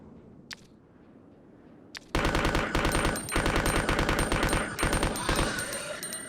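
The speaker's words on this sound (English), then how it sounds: "I'm burst firing because the way the SMG in this game works is it's something like every third shot does not register" Submachine gun fire in Resident Evil 2, a sudden loud rattling stream of rapid shots cutting in after a near-silent start, broken into short bursts with brief gaps.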